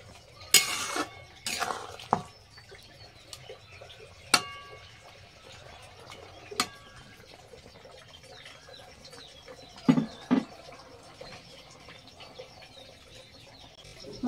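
Tangra fish curry stirred in a pot, with a few sharp clinks and scrapes of a spoon against metal spread over a quiet background, and faint outdoor sounds between them.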